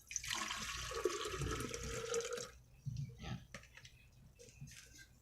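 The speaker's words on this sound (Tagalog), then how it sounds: "lalagyan lang natin ng tubig" Water poured into a welded acetylene gas container to check it for leaks, a rushing gush for a few seconds that cuts off, followed by quieter drips and handling knocks.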